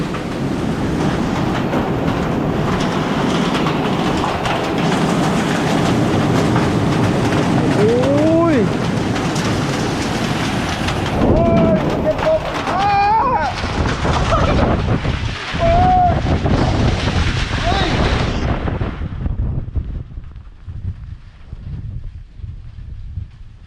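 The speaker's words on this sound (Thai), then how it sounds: "ตกแรง มีเห็บตกหรือเห็บตก ลูกเห็บตก" Summer hailstorm with heavy rain: a dense, steady roar of pounding rain and hail hitting surfaces, loud and continuous, with occasional voices and whistling tones over it before it thins toward the end.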